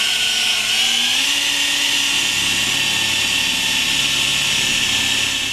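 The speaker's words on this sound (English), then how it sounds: "You just want the drill bit to do its thing." A power drill whines steadily at high speed, its pitch shifting slightly as the bit bites into metal while installing a car tower strut bar; loud, close and continuous with no talking.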